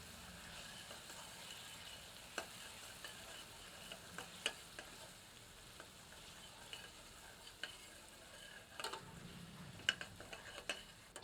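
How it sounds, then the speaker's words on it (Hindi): Ginger garlic paste fries with golden onions in a pan over low heat for Punjabi chole masala, a soft steady sizzle with occasional stirring clinks of a spoon against the pan, quiet and close. "1 टेबलस्पून अदरक लहसुन का मिश्रण सम्मिलित करते हैं। इसे 2 से 3 मिनट धीमी आंच पर भूनते हैं।"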